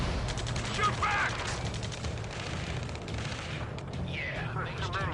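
Gunfire from an Ace Combat 7 ground battle scene plays as dense, continuous rattling bursts and clatter, with shouted voices mixed in among the fire.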